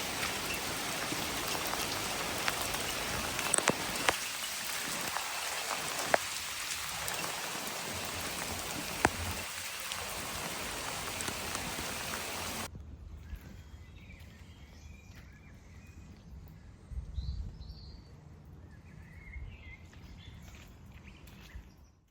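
Steady rain patters down at an outdoor building site for an aquascape ecosystem pond with an intake bay. A dense, loud wash of drops runs throughout, then drops away to a lighter drizzle with faint bird calls behind it.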